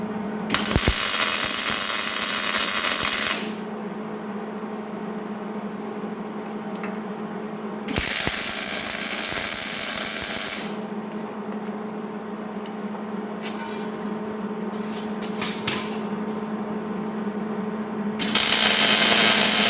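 Arc welding an upper mount bracket onto a truck axle during an S-10 suspension build, heard as three separate bursts of loud crackling hiss with a quieter steady hum in the gaps.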